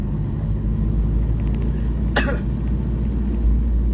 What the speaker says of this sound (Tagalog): Abay na ubo-ubo